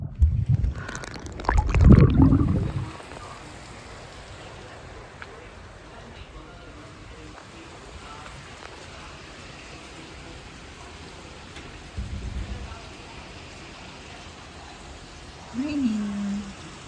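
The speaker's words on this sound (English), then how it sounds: "Raining." Rain falling at a villa in Seminyak, Bali, a soft steady hiss throughout, with brief bursts of nearby voices and knocks near the start and end.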